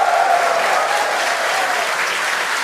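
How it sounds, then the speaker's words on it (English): A crowd at a SpaceX Starship launch viewing in Hawthorne applauds, a dense, sustained wash of clapping and cheering that holds steady throughout. "crowd here in Hawthorne all went ooh at that first view of the blue flames from the booster"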